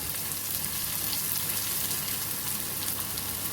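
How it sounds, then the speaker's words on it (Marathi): Finely chopped onion frying in oil in a pan for a raw banana curry, giving a steady, even sizzle that holds without a break and stays moderately quiet, with no voices over it. "थोडासा बारीक चिरलेला कांदा घाला किंवा नका घालू पण मी थोडासा घालते कांदा"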